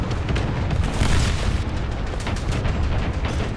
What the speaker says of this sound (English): Stop shooting, you retarded AA gun.